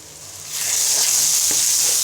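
A curry spice paste with garlic paste and cumin powder frying in a pan, rising into a close, loud hissing sizzle with a soft stirring scrape.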